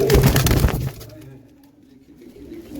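Domestic pigeons of old breeds kept by a fancier coo in a loud, close burst for under a second, then fade into near silence.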